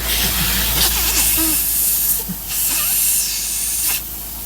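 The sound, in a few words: compressed air leaking from cracked bus front air tank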